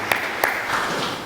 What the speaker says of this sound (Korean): 함께 감사와 영광의 박수를 올려드립니다.